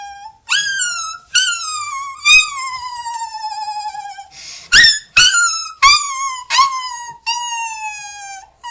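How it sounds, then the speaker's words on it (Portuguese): A puppy cries in a string of high, wavering whimpers and drawn-out whines, each rising sharply and then sliding down, close and fairly loud, with short pauses between the cries. "Ó o cachorro."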